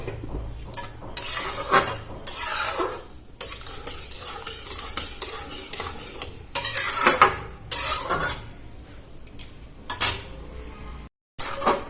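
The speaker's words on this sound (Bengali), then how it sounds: "এটা একটু ফুটিয়ে নেব ভালো করে।" Raw papaya chutney with sugar cooks in a pan amid bursts of sizzling and repeated stirring, with spoon clinks and scrapes against the pan arriving in uneven clusters and a brief silent gap near the end.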